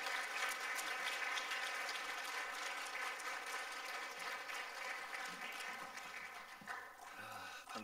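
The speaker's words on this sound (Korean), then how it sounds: "우리 목사님 나오실 때 힘차게 박수하도록 하겠습니다" A congregation at a Korean Wednesday evening church service claps to welcome a guest pastor. The applause sounds soft and somewhat distant, with a faint sustained tone beneath it, and tapers slightly toward the end.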